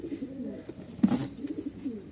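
Low, throaty coos from a Danish pigeon repeat in soft pulses, close by, with a brief rustle or flutter in the middle.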